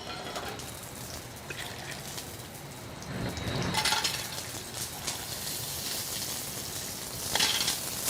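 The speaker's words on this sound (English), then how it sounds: "just gonna add a little bit of garlic and the clams" Garlic and clams sizzle in a hot pan for pasta, a continuous crackling hiss that swells louder midway, with small shell clicks and rattles on top.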